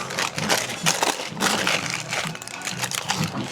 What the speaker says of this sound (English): Okay, let's unwrap it.